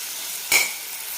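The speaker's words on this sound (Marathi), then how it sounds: "आता थोडीशी गॅसची फ्लेम हाय करायची आहे आणि छान परतून घ्यायचं आहे याला" Tomatoes with salt sautéing on a high flame for a dhaba-style shahi paneer masala, one short burst of sizzling and stirring against a quiet background.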